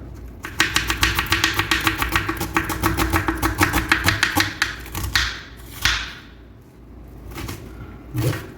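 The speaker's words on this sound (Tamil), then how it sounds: "நான் இப்போ ஆனியன் கட் பண்ணிக்கிறேன்" A knife chops onion on a board in a fast, even run of close, crisp strikes, then slows to a few scattered cuts.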